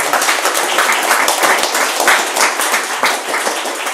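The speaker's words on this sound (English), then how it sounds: "a round of applause for that" Audience applause at a talk by an Ironman world champion triathlete: dense, steady clapping from a sizable crowd, loud and continuous for the full stretch with no lull.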